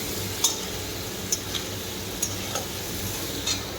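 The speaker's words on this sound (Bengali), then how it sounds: "এটাকে ভালো করে ভেজে নিই।" Food frying in a pan makes a continuous close sizzle, with a few light clicks of a utensil stirring at intervals.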